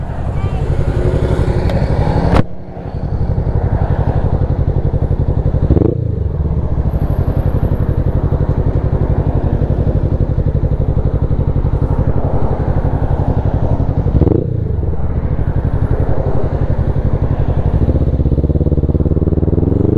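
A motorcycle engine drones steadily and loudly while riding, with wind rumble and a few brief clunks or shifts along the way.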